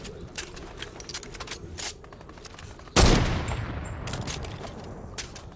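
Gunfire in Fortnite, a scatter of sharp distant shots followed by one loud close crack that rings out, with lighter shots continuing after it.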